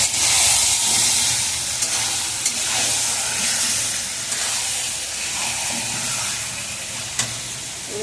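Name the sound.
spiced chicken meat frying in a pan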